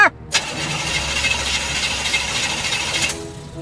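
A rusty old car's starter grinds in a steady, continuous crank for about three seconds and never catches, loud and close, with a brief voice at the very start.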